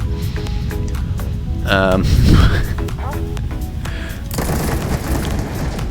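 Ambassador pistol fire in the video game Starfield, loud rapid bursts of gunshots and booms over constant game noise, with a heavier burst near the middle.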